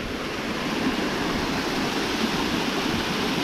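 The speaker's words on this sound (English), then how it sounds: "Waterfall is nice." A waterfall on a rainy afternoon gives a steady, broad rushing roar of falling water, constant and fairly close, with no voices over it.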